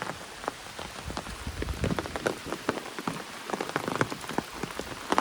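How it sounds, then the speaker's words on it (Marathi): Steady rain pattering on a surface close by, dense and continuous with scattered louder drops. "आता पावसाने सुरुवात केला आहे"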